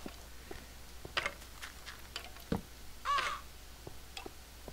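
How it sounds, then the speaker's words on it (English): A crow-like bird caws in the video game Minecraft, a couple of short harsh calls with the louder one near the end, over a quiet background of faint ticking and tapping, no speech. "Oh, it must be a bird above me."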